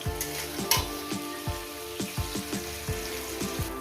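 Chopped onion frying in a pan as the base for a mutton curry, with a steady low sizzle and a run of regular scraping stir strokes close by, no voices.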